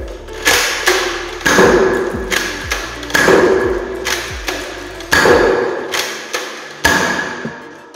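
Zuru X-Shot Turbo Fire toy blaster firing in rapid bursts, each shot a sharp near thump with a springy clack, about seven loud shots spaced roughly a second apart with no talking.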